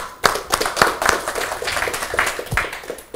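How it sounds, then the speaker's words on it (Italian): Applause from an audience at an Odoo conference talk on planning from customer orders, a short burst of scattered claps that starts abruptly and stays moderately loud, with a few voices mixed in. "gli facciamo un applauso."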